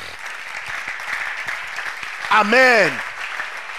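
A church congregation claps steadily, acclaiming the Lord during a worship service; the applause is moderately loud and continuous, with a voice briefly calling out over it.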